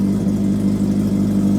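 A Kawasaki Z650 motorcycle idles nearby, its exhaust giving a loud, steady engine drone with a strong low hum and no revving.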